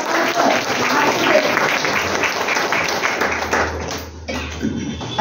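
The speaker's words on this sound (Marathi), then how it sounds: "जोरदार टाळ्या होतो." Loud, sustained applause from an audience at a Marathi poetry book launch in Pune, a dense wash of clapping that carries on for several seconds before thinning toward the end.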